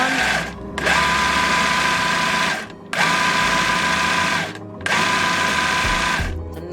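Loud, noisy industrial sewing machine stitching tutu ruffles with fishing line, whirring in three long steady bursts separated by short pauses, close up and alone.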